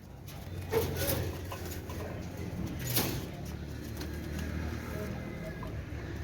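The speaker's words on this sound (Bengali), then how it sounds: "এটা হচ্ছে হোয়াইট কমান্ডো পাকিস্তানি কবুতর" White Commando Pakistani pigeons coo softly, a few low rounded calls rising now and then over a quiet room background, with a faint voice in the distance.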